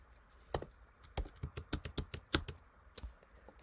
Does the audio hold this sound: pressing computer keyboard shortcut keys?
yes